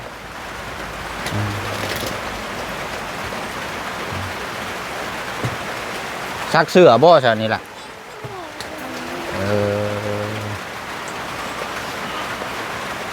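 Rain drumming on a roof in rural Thailand as a constant wash of hiss, with someone speaking over it and a brief louder burst of voice midway.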